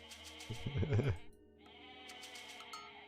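A single loud, wavering goat bleat in Age of Mythology near the start, then a quieter tonal game soundscape afterward.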